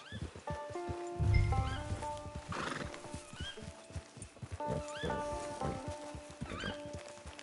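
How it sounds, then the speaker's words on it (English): A horse in a video game whinnies several times in bright, rising cries, mixed with the clip-clop of hooves and soft thumps, fairly close and with no talking. "It's your horse."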